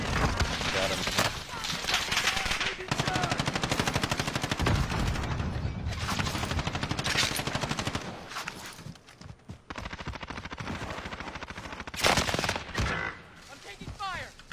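Rapid bursts of automatic gunfire fill a Warzone battle royale match, loud and sustained with short breaks between volleys, mixed with other game effects.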